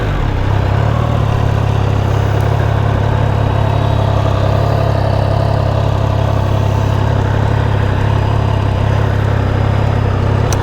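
A 2022 Triumph Tiger Sport 660 motorcycle engine runs at a steady, loud idle close by, an even mid-pitched hum with no talking over it.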